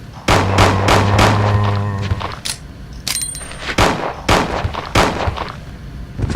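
Gunshots fired at zombies in the Resident Evil 2 video game, a string of loud, punchy blasts in quick succession with booming low tails, some spaced apart, over game background sound.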